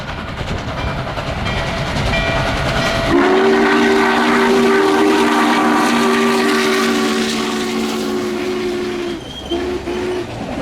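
Norfolk & Western 611 steam locomotive working near the North Mountain grade, its chime whistle sounding in one long sustained blast over the loud, steady rumble of the passing train, then a short final toot.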